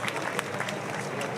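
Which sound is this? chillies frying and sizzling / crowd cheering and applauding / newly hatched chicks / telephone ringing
crowd cheering and applauding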